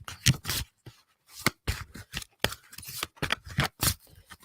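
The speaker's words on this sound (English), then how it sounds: "So what I'm doing is I'm just shuffling here." Cards being shuffled by hand during a tarot-style reading, giving a series of quick riffling and sliding bursts with short pauses between them, close and fairly soft, with no talking.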